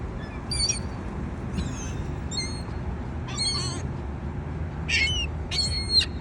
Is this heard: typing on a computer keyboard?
no